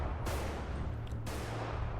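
Loud gunfire in the first-person shooter Bodycam, two sharp blasts about a second apart, each trailing into a long smooth echoing tail that carries through the surroundings.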